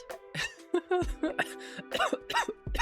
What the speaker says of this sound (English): I just have a lingering cough. It's more of a dry cough now